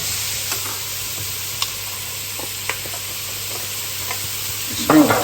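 Ground cumin stirred into an enchilada mixture frying in a pot, with a steady low sizzle, a few soft scraping stirs and a louder clatter near the end.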